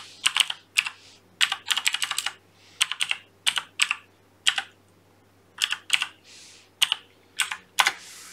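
Bursts of rapid clicking on a computer keyboard, several quick keystroke flurries separated by short pauses, close and fairly quiet.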